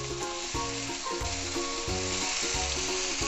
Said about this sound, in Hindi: ये सारे मसाले हम एक साथ डाल देंगे।